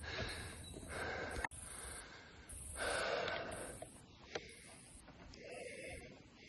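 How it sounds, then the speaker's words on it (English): Heavy, gasping breaths from a hiker out of breath on a sloped river trail, close to the mic with a few sharp intakes and snorts, and no talk over them. "I'm out of breath."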